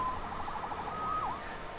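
A wailing siren tone rises and falls in a sweep, moderately loud over a steady background rumble.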